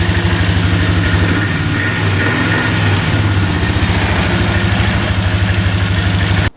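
A 4x4 ATV engine with fresh oil and its air box removed idles while warming up, a loud, close, steady chugging pulse that holds evenly before cutting off abruptly at the end.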